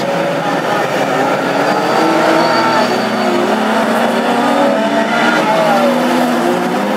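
Classic hot rod race cars circle a short oval track at night, several engines droning and revving together, loud and continuous with shifting pitch as they pass.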